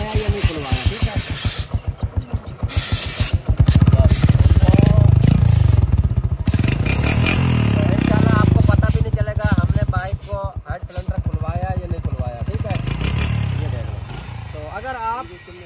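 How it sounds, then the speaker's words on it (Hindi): A Honda CD70 motorcycle engine, after its cylinder head was opened, runs with a throaty, revving rumble and mechanical clatter, while someone talks over it. "अब बाइक की आवाज़ चेक करो, सिलेंडर की तरफ लेकर जाओ, साउंड बाइक का"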